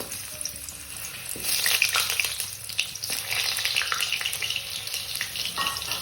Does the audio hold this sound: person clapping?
no